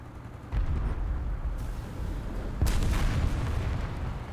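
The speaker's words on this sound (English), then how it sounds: "Drop some more artillery." Artillery fire in the War Thunder video game: two heavy, loud booms about two seconds apart, each leaving a long, rumbling wash of battle noise that fills the gap between them.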